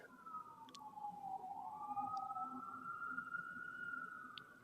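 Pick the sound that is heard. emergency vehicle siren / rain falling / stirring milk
emergency vehicle siren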